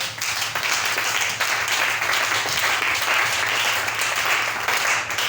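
Church congregation applauding during a French-language worship service, a dense, steady wash of clapping that stays loud and continuous from start to finish, with a low hum underneath.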